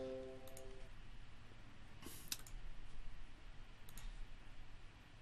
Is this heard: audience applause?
no